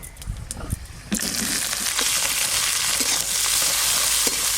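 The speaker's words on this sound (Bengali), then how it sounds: "পেঁয়াজ কুচি একটু ভালো করে ভাজা ভাজা হোক" Chopped onion hits hot mustard oil tempered with five-spice, bay leaf and dried red chilli, bursting into a loud, steady close sizzle after a few soft stirring clinks.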